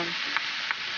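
Chicken gizzards being mixed by hand with garlic salt, pepper, turmeric and sugar marinade, with a soft wet background hiss and two quick squelchy pats.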